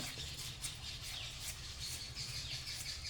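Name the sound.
small birds chirping nearby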